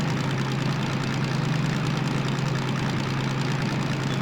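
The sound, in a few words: locomotive engine revving in Derail Valley video game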